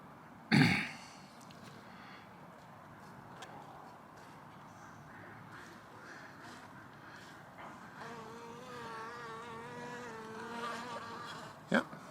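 Honeybees buzz around the entrance of a hive fed with a five-pound sugar brick, where a yogurt container is fitted to the hive bottom. A sharp knock opens the clip, then a steady insect drone with rising wavering tones and another brief knock near the end.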